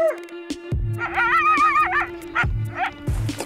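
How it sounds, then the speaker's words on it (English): Coyotes howling and yipping outdoors in Alberta, several wavering howls rising and falling with sharp yips and short barks between them, loud and close, one call overlapping another. "when we got coyotes howling"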